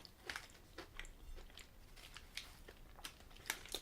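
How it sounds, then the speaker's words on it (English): Someone bites and chews a Nestlé white chocolate Crunch bar with rapid, irregular crisp crunches. The sound is close and quiet, with no voices. "You can probably hear me crunching away on it."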